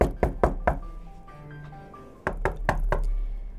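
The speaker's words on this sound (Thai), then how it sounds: "ทันใดนั้นมีเสียงเคาะประตูดังมาก" Sharp, loud knocks on a wooden door as a storytelling sound effect: four quick raps, a pause with soft music, then four more heavy knocks.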